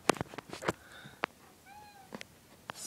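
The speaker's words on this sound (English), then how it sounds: "There's my cat," A house cat gives a drawn-out meow with a few short calls near the middle, fairly faint, among scattered clicks and knocks in a quiet room.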